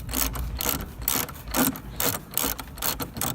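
A ratchet works on T30 bolts in the wheel arch of a VW T4 Syncro bumper, giving a close, rapid series of clicking pawl strokes with short pauses between pulls.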